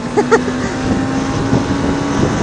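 A 2018 Suzuki GSX250R motorcycle is ridden in third gear, giving a steady engine drone mixed with rushing wind noise on the microphone, and a rider's voice comes in briefly near the start.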